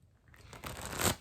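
A deck of tarot cards being shuffled up close, a short soft riffle that builds to a crisp burst of flicking cards near the end.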